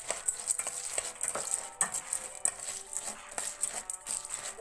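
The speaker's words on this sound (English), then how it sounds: "So I'm going to give it a quick stir to ensure the corn kernels are thoroughly coated in the oil." Popcorn kernels coated in oil are stirred in a pot, a faint scraping and rattling with light sizzling in an irregular rhythm, close and quiet with no voices.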